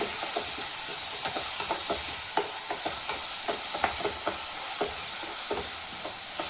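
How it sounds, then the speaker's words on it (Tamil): Onions sautéing with salt in a pan over a village cooking fire, a steady sizzle broken by frequent scraping stirs and small clinks, close and fairly loud, with no talking. "கொஞ்சம் உப்பு போட்டுக்கலாம், ஏன்னா இந்த வெங்காயம் சீக்கிரம் வதங்குறதுக்காக"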